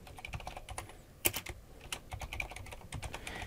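Rapid typing on a computer keyboard while entering a name in Photoshop, with a steady run of close, crisp key clicks and one louder cluster of strikes partway through, with no voices.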